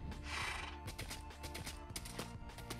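Horse or donkey in Minecraft, a whinnying neigh with clip-clop hooves amid busy game sounds, fairly faint and continuous throughout.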